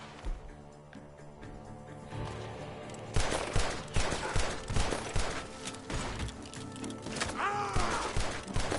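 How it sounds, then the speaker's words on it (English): Rapid bursts of gunfire from a barn in Red Dead Redemption 2 crackle over a busy game soundscape with music and impacts, the shots dense and loud through the second half. "The gunshots are coming from that barn!"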